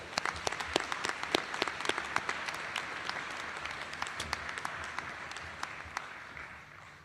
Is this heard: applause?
yes